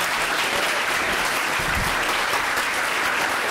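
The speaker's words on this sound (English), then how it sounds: "will the San Antonio collegiate community join me in applauding this wonderful, wonderful superintendent?" A workshop audience in a hall gives loud, sustained applause for a superintendent, thick continuous clapping that fills the whole stretch without any speech.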